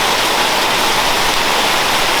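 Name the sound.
heavy rain falling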